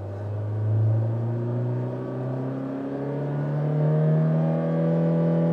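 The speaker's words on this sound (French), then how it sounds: "Et voilà le petit 2 litres qu'on entend rugir présentement." The 2-litre engine of a 2016-2017 Hyundai Sonata Hybrid hums and revs, its droning pitch climbing and dipping in slow surges, heard up close and alone.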